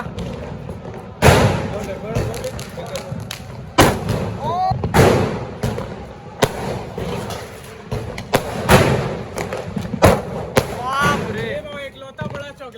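Black Cat firecrackers exploding outdoors during Diwali celebrations, a series of loud sharp booms and thuds spread through the scene, with people talking and background crackle between the blasts.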